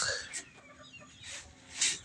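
Chickens waiting to be fed, alongside turkeys, give scattered clucks and higher squawks, the loudest near the end, against a quiet farmyard background.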